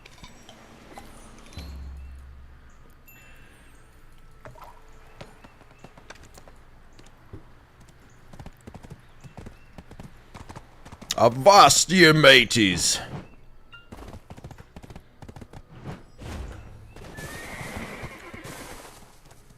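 A horse in a video game neighs loudly in one burst, with light clip-clop hoofbeats and game clicks around it, while a player talks over much of the quieter stretches.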